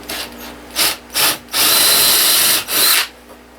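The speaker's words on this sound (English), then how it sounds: "Now what I'm doing here is just drilling a screw hole" A power drill whirs in short bursts while drilling a screw hole in reclaimed pallet wood, two brief pulses then a longer sustained run and one more burst, loud and close.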